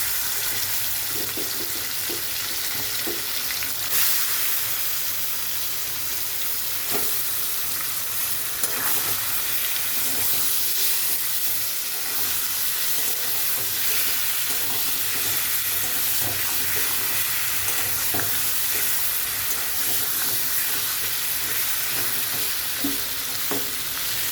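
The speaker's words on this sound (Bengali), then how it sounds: "এখন আমি চিকেনগুলো দিয়ে দিচ্ছি এই তেলের মধ্যে" Chicken pieces dropped into hot white oil on a high gas flame, frying with a loud, dense, continuous sizzle and occasional stirring clicks throughout, no talking.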